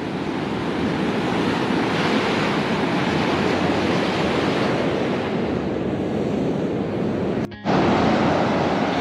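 Ocean waves wash up over a beach that has been flooded up to where a truck is parked, a loud continuous roar of surf with wind buffeting the microphone and a brief dropout near the end.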